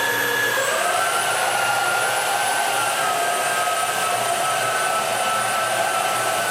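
A Xiaomi Jimmy JV65 cordless vacuum cleaner runs steadily, a loud continuous whirring motor whine with a rising pitch shift early on, close up and with no talking.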